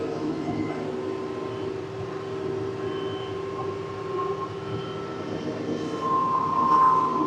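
Compact tractor near the low end of its horsepower range, running a large flail mower through thick material, gives a steady droning engine rumble with a constant whine that rises slightly toward the end.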